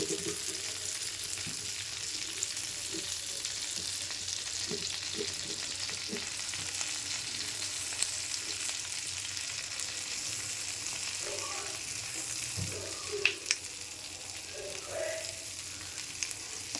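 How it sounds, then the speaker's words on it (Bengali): Prawns sizzle steadily as they fry in a pan for a prawn malai curry, a continuous hiss running throughout with occasional soft knocks and stirring clicks near the end. "চিংড়ি মাছ মেখে ভাজা দিয়ে দিচ্ছি"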